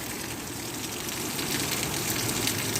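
Heavy rain pours down in a steady, dense hiss during a downpour on a cycling tour through Turkey, loud and close with a slight swell toward the end, no voices.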